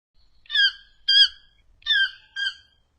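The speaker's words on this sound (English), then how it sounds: "Toucan." A toucan gives four short croaking calls in two pairs, nasal and clipped, close and distinct against a silent background.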